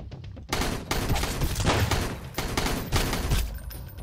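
Distant sniper rifle fire in Sunkenland mixes with a dense, continuous clatter of other gunfire, with loud rolling bursts that swell and fade over several seconds.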